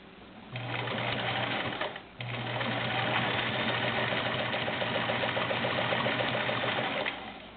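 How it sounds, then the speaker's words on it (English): A vintage Kenmore model 1802 sewing machine runs a straight stitch over a folded jeans pocket with double seams, whirring steadily and close in two runs split by a short pause near the start. "We're going to go over here and do a straight stitch, and I'm going to put a jeans pocket under here."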